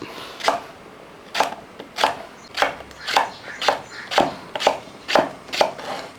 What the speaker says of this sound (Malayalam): ഇതും അതുപോലെ അരിഞ്ഞങ്ങോട്ട് ഇടാം